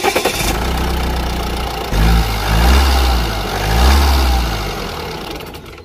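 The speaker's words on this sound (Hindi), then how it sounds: "तो कुछ ऐसा था इसका इंजन साउंड" A second-generation Tata Harrier automatic SUV's engine runs close up with the bonnet open, a steady diesel-like idle rising in a couple of brief revs before settling back, heard alone.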